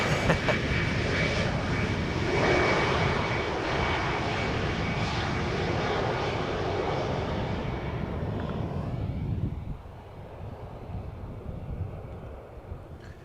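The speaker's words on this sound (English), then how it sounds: "Next up, KLM flight 1106, another E2. Arriving from Stockholm, 1 hour and 47 minutes underway." A KLM Embraer E2 jet arriving at Schiphol Airport produces a loud broadband engine roar that holds steady, then fades down toward a quieter rumble near the end.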